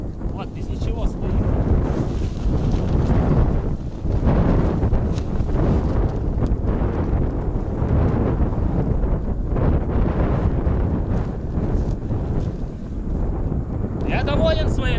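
Strong wind batters a tent pitched on a sandy seashore, a loud continuous roaring rumble with buffeting gusts pressing against the fabric and microphone throughout.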